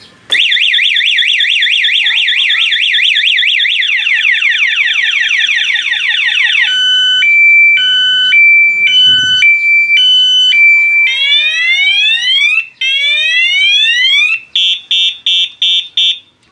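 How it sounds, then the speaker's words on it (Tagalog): A loud electronic Cyclone motorcycle anti-theft alarm siren cycles through patterns: rapid warbling, steady two-tone alternation, rising sweeps, then short repeated beeps. "I am protected by cyclone alarm."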